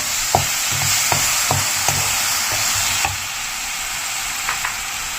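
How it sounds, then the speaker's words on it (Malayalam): Ripe banana stirred and fried in ghee with sugar sizzles steadily, with repeated soft scraping stir strokes in a quick irregular rhythm over a constant frying hiss. "ഒരു 5 മിനിറ്റ് സമയം നമുക്ക് ഈ നെയ്ക്കകത്തിട്ട് ഈ പഴം ഒന്ന് ഇളക്കിയെടുക്കാം"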